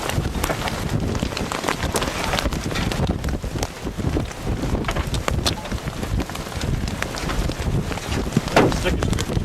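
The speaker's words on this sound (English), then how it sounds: "Look at this. Baseball-sized hail." Baseball-sized hail pounding down during a violent hailstorm, a dense continuous roar of impacts mixed with wind buffeting the microphone, loud and steady throughout.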